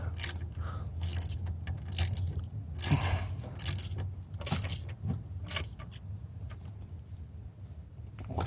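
A ratchet tightening a bolt on a 2013 Ford Edge EcoBoost, with quick bursts of clicking in several short runs and a low hum underneath, close by and fading toward the end.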